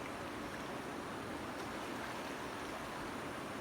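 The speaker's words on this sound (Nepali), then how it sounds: "नदी हिजोदेखि व्यापक बढ्दै गएको छ। यो त्रिशुली नदी" A flooded Trishuli river surges past Devghat, Nepal, a dense, steady roar of rushing water with no voices over it.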